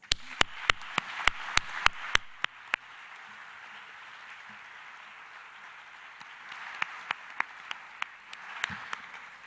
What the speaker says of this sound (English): A round of applause also for this wonderful news.